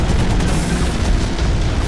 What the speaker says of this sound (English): Someone's got a damn ass turret up there.